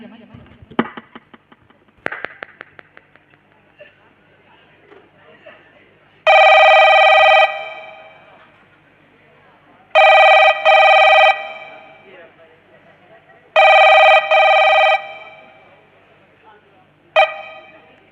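A telephone rings in three long, loud electronic bursts with pauses between them, heard during a Hindi nautanki folk theatre performance, with scattered clattering sounds before the rings.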